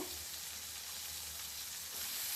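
Soaked, freshly cut mushroom pieces hitting a hot pan for mushroom gojju, giving a loud, steady, close sizzle and frying hiss that holds unbroken for a couple of seconds and swells slightly at the end.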